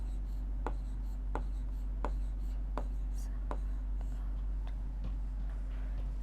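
Digits written by hand, a series of crisp evenly spaced pen taps and strokes, close and soft over a low steady hum, with quiet talk at times.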